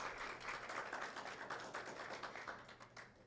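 An audience applauds an award recipient honoured for a social-impact business, a quiet, distant, steady patter of many hands clapping in a room.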